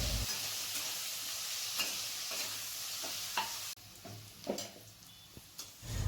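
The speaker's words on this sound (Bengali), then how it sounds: "এবার উচ্ছেগুলো ভেজে নিচ্ছি" Bitter gourd pieces frying in oil in a pan, giving a steady soft sizzle with occasional stirring clinks and scrapes, close and fairly quiet.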